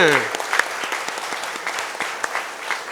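An audience at a Tamil documentary release event claps steadily for about three seconds, a dense, close burst of applause with no talking over it.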